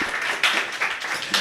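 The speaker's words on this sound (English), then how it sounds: "So firstly, I want a round of applause for you." An audience gives a round of applause at a business talk, a dense, steady patter of many hands clapping with a few sharper peaks, filling the short moment without speech.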